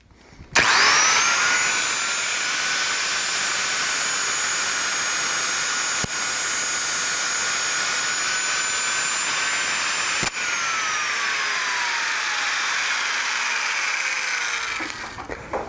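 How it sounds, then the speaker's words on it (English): A small 4-inch angle grinder with a metal cutoff wheel trims the end of a wire rope, giving a loud, steady high whine that holds for about fifteen seconds, with a couple of brief clicks, then spins down. "I'm just going to use a little 4-inch grinder with a metallic cutoff wheel"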